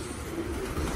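Pigeons in a racing pigeon loft coo softly, a low, rounded murmur held close by, with steady background noise and no talking.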